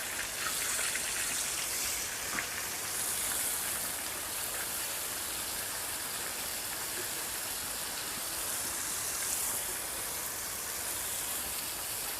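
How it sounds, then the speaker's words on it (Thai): Steady rain falls outside a house, a dense, even hiss of drops on surfaces that carries on unbroken at moderate level with no voices. "ฝนกำลังตกแล้วครับที่บ้าน"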